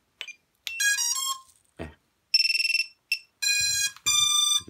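A racing drone's remote controller sounds its power-on beeps: a run of sharp, high electronic tones in short bursts and longer held notes, close and clear against silence.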